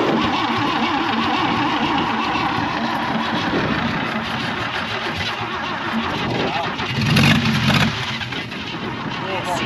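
A 1966 Chevy Biscayne engine, abandoned and unused for about 20 years, runs steadily with a rough, continuous mid-pitched rumble and swells in revving near the end, while people talk over it throughout.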